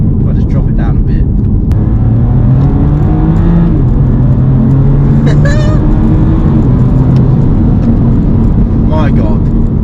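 A BMW M2 Competition with 405 bhp, rear-wheel drive, heard from inside as the engine pulls and rises in pitch under acceleration, loud and constant, with someone talking over it.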